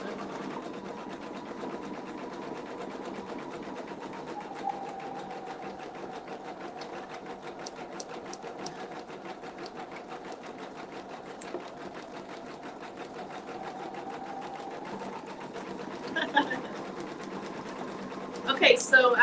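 Embroidery machine stitching a design onto a knit beanie, a steady fast mechanical whir with rapid needle ticking that runs continuously at close range, with a few louder clacks and rattles near the end.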